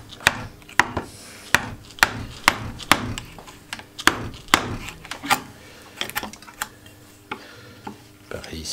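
A chisel cuts and pares wood chips while a wooden frame saw is built by hand, a steady series of sharp tapping and chopping strikes with scraping between them, close and without talk.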